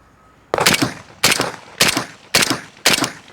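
A Russian M70 rifle fitted with a Delta-tek muzzle device fires five loud, close shots at a steady, deliberate pace, each a sharp blast with a short decaying echo.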